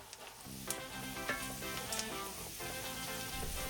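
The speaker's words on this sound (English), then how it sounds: "We start gently sautéing onions and peppers in oil and butter, just softening them up." Onions and peppers sizzle and crackle steadily in hot oil and butter, close up, with occasional stirring scrapes over the frying hiss.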